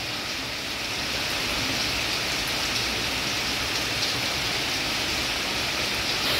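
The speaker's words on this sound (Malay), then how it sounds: "Hujan kalau lebat mula dah" Heavy rain during Malaysian flood season pours down in a steady, dense hiss, unbroken for the whole stretch with no voices over it.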